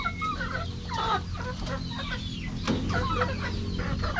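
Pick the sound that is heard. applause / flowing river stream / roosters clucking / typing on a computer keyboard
roosters clucking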